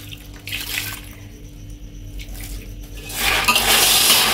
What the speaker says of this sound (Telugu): బెల్లం ఇట్లా మెత్తగా కొట్టుకొని దీంట్లో ఒక 2 గిద్దెల నీళ్ళు పోసి